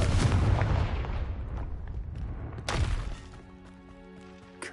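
Confringo fire spell explosions in Hogwarts Legacy: a heavy booming blast, another sharp burst a couple of seconds later, each trailing into rumbling decay, followed by a sustained tonal magical shimmer.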